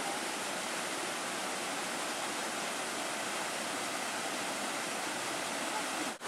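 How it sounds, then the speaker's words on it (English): St. Mary's Falls pours over carved rock in a steady, loud rush of white noise that stays constant and unbroken throughout. "Welcome to St. Mary's Falls."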